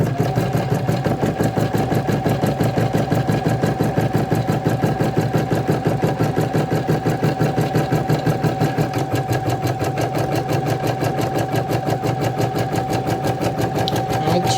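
An embroidery machine stitches an in-the-hoop crochet hook roll, a loud, fast, steady mechanical chatter with a constant motor hum, running without pause close to the microphone.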